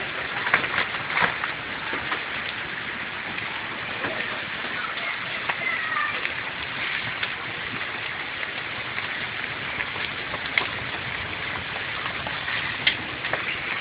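A hailstorm in Tallahassee on a late February afternoon patters steadily and densely on surfaces, with scattered sharper ticks of individual impacts throughout.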